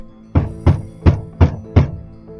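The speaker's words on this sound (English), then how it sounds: "I jumped at the sound of the thumping at the door and tried to ignore it, but the knocks simply grew louder and more annoyed." Five loud, heavy knocks pound on a door at an even, steady pace, close and alone with no talking.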